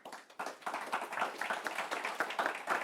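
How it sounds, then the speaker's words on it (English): An audience at a European transport conference claps for the panelists after a session, scattered applause with distinct individual claps, fairly close and moderately loud. "How about a round of applause for our panelists?"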